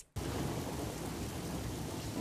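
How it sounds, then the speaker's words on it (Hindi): Heavy monsoon rain pours down steadily under dark clouds, a dense roaring wash with thunder rumbling low, starting abruptly and continuing loud without a break. "झमाझम बारिश हो रही है, आसमान में काले बादल छाए हुए हैं और बिजली कड़क रही है।"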